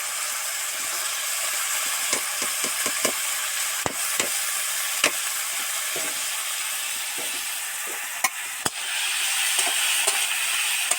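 Steamed fig pieces fry in a kadai with onion, tomato and potato for a vegetarian dish. A continuous close sizzle runs under repeated scraping stir clicks and a few sharper knocks, with no one speaking.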